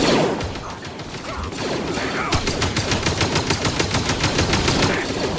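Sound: blaster gunfire from the video game Star Wars Jedi: Fallen Order

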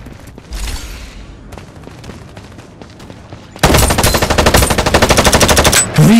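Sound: gunfire in the video game Farlight 84

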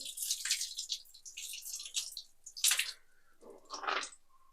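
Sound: water flowing out of a removed RO water filter

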